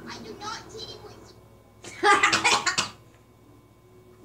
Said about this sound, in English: That was the most weirdest cough I could ever have.